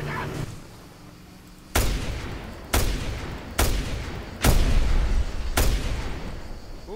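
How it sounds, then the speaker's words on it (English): Five heavy, booming video game explosions in Just Cause 2 at uneven intervals, each cutting off quickly, with quieter ambient noise in between. "I do love the old explosion."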